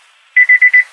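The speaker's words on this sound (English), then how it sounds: "Oh, that's my door alarm." A car's door alarm chime, set off by keys left in the ignition, beeps four times in quick even succession, loud, clean and close.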